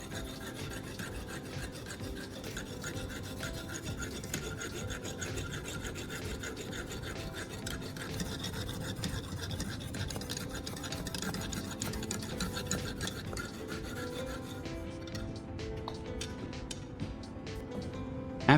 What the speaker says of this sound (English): After finishing sharpening one side of the knife with both sides of the sandpaper, I remove the knife and switch directions.